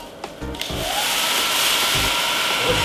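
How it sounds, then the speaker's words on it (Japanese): A household hair dryer switches on and blows warm air into a taped plastic bag for a science experiment, a steady loud whooshing motor roar that follows a few light handling clicks and thumps. "じゃあいいよって言ったらドライヤーをつけてくださいね。"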